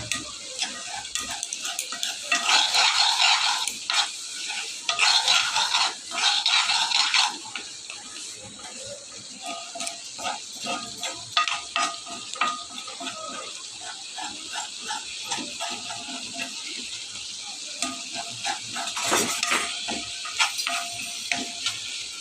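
Dried fish (shutki) fries in a pan, giving bursts of loud sizzling hiss broken up by scraping and clattering as it is stirred, then settling into a lower, steady crackle.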